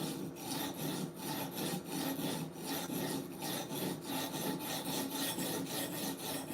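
An M4 steel knife blade is sharpened with quick, rhythmic rasping strokes that repeat evenly back and forth, close and fairly quiet, with no talking.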